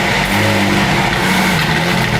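A McLaren hypercar engine that hasn't run in a while fires up, its loud, steady engine roar filling the space continuously and close by with no talk over it.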